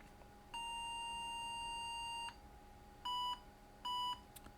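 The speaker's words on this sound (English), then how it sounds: "So we've got normal beeps." An IBM PS/2 386DX computer gives its startup beeps, one long tone followed by two short ones, clean and faint with no talk.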